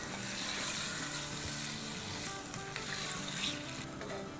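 Chicken breast pieces frying in a pot over a high flame make a dense, continuous sizzle and crackle, close up, with occasional clinks of stirring and no talking.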